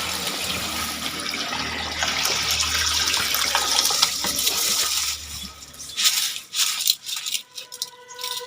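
Water splashes and trickles steadily into a container of rice for dum biryani for several seconds, then gives way to sparse clinks and rattles near the end.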